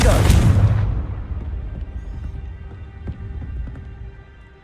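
A Confringo blasting spell explodes in the Hogwarts Legacy video game: one loud, close boom that fades over about a second into a low rumble with faint crackles.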